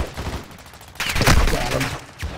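Gunfire in a first-person shooter video game, a short loud burst of rapid shots near the middle of the moment, with a voice talking around it.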